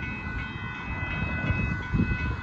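A northbound Union Pacific mixed freight train with distributed power units passes the Dittmar Road crossing in South Austin, Texas, giving a steady, close, rumbling roll of wagons.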